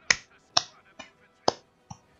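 Five sharp, isolated hand claps close to the microphone, spaced unevenly about half a second apart, each a crisp snap with a short decay.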